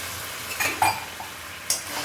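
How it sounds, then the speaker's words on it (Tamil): Coconut water is poured into hot jaggery syrup in a pan, and it sizzles while a spoon stirs. Short sharp hisses and clinks sound up close for about two seconds, with no talking. "இது வந்து இளநீர் எடுத்து வச்சுருக்கேன் தேங்காய் உடிச்ச இளநீர் கொஞ்சம் ஊற்றிக்கலாம்"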